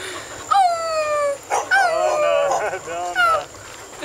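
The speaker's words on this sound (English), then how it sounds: "Is that a mean dog?" A dog barks and yips loudly near a golf cart, three sharp high-pitched bursts with brief gaps between them.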